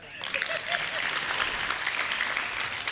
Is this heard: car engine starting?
no